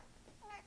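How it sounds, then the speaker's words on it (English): A pet cat gives one short, faint meow indoors, brief and soft against a quiet room background. "There's a cat behind me."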